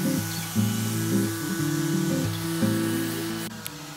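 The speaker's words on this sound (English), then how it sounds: "While Andrew sands and restains my coffee table" A power sander works steadily over a wooden coffee table being refinished, giving a continuous buzzing whine that wavers slightly in pitch throughout, with no talk.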